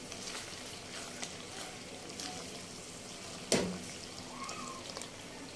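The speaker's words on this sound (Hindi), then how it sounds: "अब हम करते हैं इसको मिक्स करके तकरीबन हम 2 से 3 मिनट तक भूनेंगे" Potatoes and eggs frying in a pan for aloo ande, a steady close sizzle with occasional soft stirring scrapes and one sharper clatter midway, no talking.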